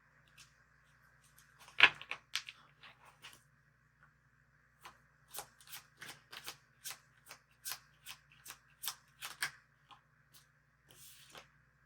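Tarot cards being shuffled by hand, a series of crisp riffling bursts, one sharp loud flutter early on, then a quick run of close, soft card flicks with brief pauses.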